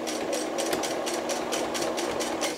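A sewing machine stitches a bib apron, a close, fast rhythmic needle chatter with regular pulses, running steadily on its own.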